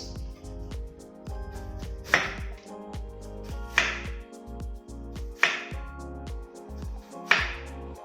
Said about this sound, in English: we want to just kind of slice nice, even but thin slices of cabbage